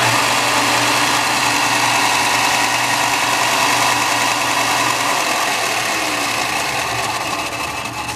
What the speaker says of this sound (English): If I turn the switch here on and just power it up by plugging it in, will the motor start properly?